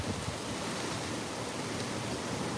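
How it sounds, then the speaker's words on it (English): Hurricane Ian wind blowing hard and steadily, a dense rushing roar with no break, close to the microphone and alone. "all it takes is this wind to blow down a power pole"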